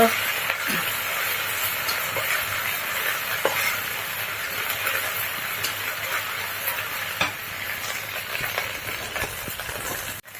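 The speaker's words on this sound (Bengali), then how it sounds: "আমি চিংড়িটা আগে ভেজে নেব" Prawns fry in hot oil in a pan, a loud continuous sizzle and crackle with faint stirring scrapes throughout, no talking.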